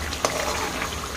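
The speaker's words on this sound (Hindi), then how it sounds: "तो इसे हम एक बार घुमा लेते हैं" Mutton sukha masala sizzles and fries in oil while a spoon stirs through it, a steady close crackle with two sharp scraping strokes.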